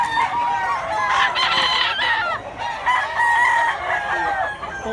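Several roosters at a poultry market in Mantalungon, Cebu crow loudly nearby, their calls overlapping with clucking and faint voices in the background.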